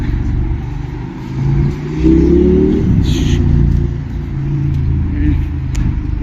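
Cars, including big Toyota taxis, drive past on a busy Dubai city street, with a steady engine rumble, one vehicle revving and swelling louder partway through, and someone talking over the traffic.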